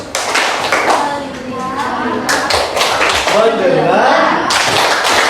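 A classroom group performs a rhythmic clapping chant, with sharp, close hand claps in patterned bursts mixed with voices chanting along, all loud and continuous.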